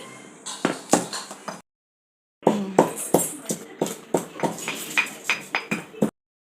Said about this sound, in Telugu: ఇలాచీలు ఇందాక నేను వేయలేదు యాలక్కాయలు ఇప్పుడైతే దంచేసేసుకొని వేసేటప్పుడు వేసేస్తున్నాను